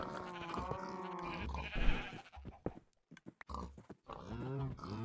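Sheep in Minecraft bleat several times in quick succession, close and fairly loud, with brief gaps between the wavering calls.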